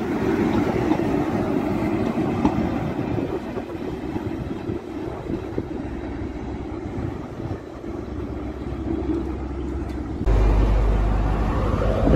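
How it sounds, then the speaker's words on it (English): A Cross Country HST high speed train departing a station on the Edinburgh to Plymouth service, giving a loud continuous diesel rumble and rolling rail noise that holds steady throughout, then grows heavier near the end. "Now leaving is the 11:49 cross country high speed train service from Edinburgh to Plymouth."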